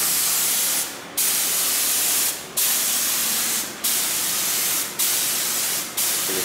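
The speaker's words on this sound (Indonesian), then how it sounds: "sekarang kita akan semprot dengan spray gun" Spray gun misting DTG pretreatment liquid (Dupont P5001) onto a garment, a loud continuous hiss broken by short pauses into about six steady passes.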